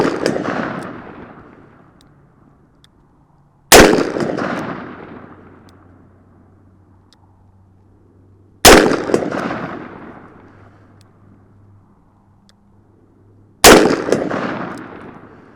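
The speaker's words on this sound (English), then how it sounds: "I enjoy shooting in double action mode, so I'm just going to continue to shoot double action here." Four loud, sharp .44 Magnum shots from a Ruger Super Redhawk revolver fired in double action on an outdoor range at a steel target, spaced about five seconds apart, each blast followed by a long echoing decay.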